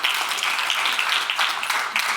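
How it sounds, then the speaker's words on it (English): An audience at a keynote event applauds, dense steady clapping from many hands filling the room without a break. "Let's give them a round of applause."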